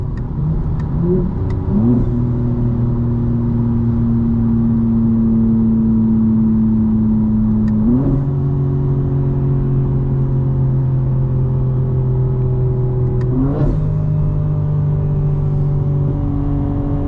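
Inside a 2025 BMW M4 Competition pushed hard by day, the engine holds a steady, loud hum, broken by three sharp gear changes where the pitch briefly jumps before settling.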